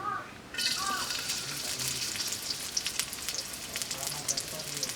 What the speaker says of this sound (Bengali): গরম তেলের মধ্যে এখন আমি দিয়ে দিব পেঁয়াজ কুচি পরিমাণ মতো